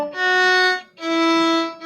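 String instrument bowing two sustained notes of a practice line in eighth notes, each about three quarters of a second long with a brief break between them, clear and close.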